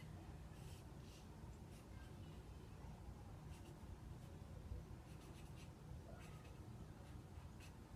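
A child writes on paper with a pencil, making a faint, continuous scratching with small irregular strokes and taps against a quiet room background.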